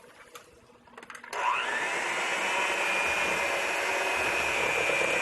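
An electric mixer whirs into banana bread batter with flour, salt and other dry ingredients, starting after a second of faint kitchen clatter, then holding a loud, steady motor drone to the end.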